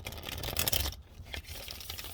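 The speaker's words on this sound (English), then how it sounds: "these cards don't want to shuffle." Tarot cards being shuffled by hand during a reading, a close, papery riffle and crinkle that bursts loudly for under a second, then continues as softer scattered rustles, with no talking.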